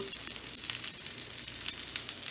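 Garlic fries in a pan with a steady, close sizzle and crackle, a bright hiss that holds evenly throughout, with no one talking.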